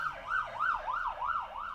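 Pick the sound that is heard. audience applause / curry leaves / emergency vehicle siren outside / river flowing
emergency vehicle siren outside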